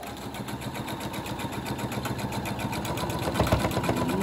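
A sewing machine stitching quilt pieces together with a quarter-inch seam runs in a fast, steady mechanical whir with rapid needle ticks, close and continuous, growing slightly louder toward the end.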